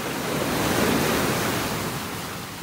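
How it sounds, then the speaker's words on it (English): Big ocean waves crash on a beach in North Naples, Florida, a dense, roaring wash of surf that swells and slowly fades, steady and close with no voices. "Some big waves crashing here."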